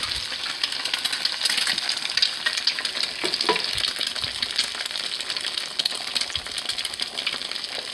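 An egg frying in hot virgin or canola oil in a pan, giving a loud, continuous close sizzle and crackle with small scraping taps throughout.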